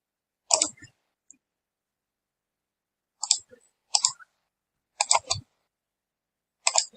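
Computer mouse clicks while working in SolidWorks 2022 CAD software: about five short, sharp clicks, some in quick doubles, spaced irregularly and heard up close with no other sound.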